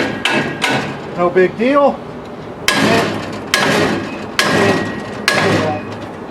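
Firefighter's axe pounding a forcible entry tool to force a door, a series of sharp, loud metallic strikes spaced in an uneven rhythm, with brief speech between blows.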